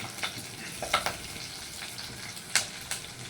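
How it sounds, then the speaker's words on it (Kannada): Spice powder fries in a pan with a steady low sizzle, broken by a few sharp pops and stirring scrapes, close by with no talk. "ಫ್ರೈ ಮಾಡಿಕೊಂಡು ಒಂದು ಸ್ವಲ್ಪ ಇದಾದಮೇಲೆ ಟೊಮೆಟೊ ಹಣ್ಣು ಹಾಕ್ಕೋಬೇಕು"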